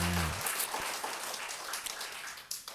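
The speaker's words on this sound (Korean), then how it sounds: "박수로 맞으세요" Applause from a studio audience welcoming a senior Buddhist monk to answer a question on a Korean talk programme, a dense broadband patter of clapping that holds steady at moderate level for about three seconds after a brief voice at the start.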